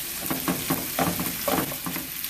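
Leftover ribeye steak and rice stir-fry in a hot pan with a steady sizzle, broken by quick, rhythmic bursts of stirring and scraping, close and clear with no talking.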